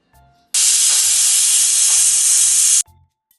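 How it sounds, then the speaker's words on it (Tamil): A pressure cooker cooking elephant foot yam with lemon lets out one loud, close, continuous steam hiss lasting about two seconds, then cuts off abruptly. "ஒரு மூணு டு நாலு விசில் வச்சு எடுத்துக்கிடுவோம்"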